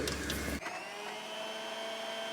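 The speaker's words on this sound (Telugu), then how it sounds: "కొంచెం గ్రైండ్ చేసుకుంటున్నాము" A kitchen mixer grinder churning soaked tamarind for a brinjal and drumstick pickle: a loud whirring burst for about half a second, then the motor winds down into a quieter, fading hum.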